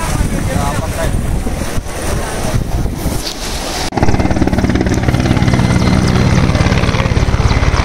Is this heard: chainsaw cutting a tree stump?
no